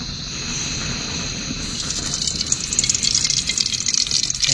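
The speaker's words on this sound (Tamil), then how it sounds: "இப்போ பார்த்தீங்கன்னா அந்த ஆயில் ஊற்றிக்கிறோம்." Cooking oil poured into a pan in an outdoor forest cooking setting gives a thin, continuous trickling gush that builds into crackly sizzling toward the end, close by, with birds or insects audible behind it.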